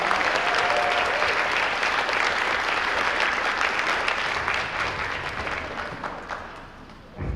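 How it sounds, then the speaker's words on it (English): Loud, dense applause from the audience at a college dining etiquette workshop, a continuous wash of clapping that holds steady and then tapers off near the end. "Let's give her a round of applause"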